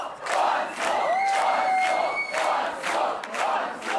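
Concert audience chanting in unison, a rhythmic crowd call for an encore, with rising whistles cutting through the repeated chant that keeps pulsing at a steady beat.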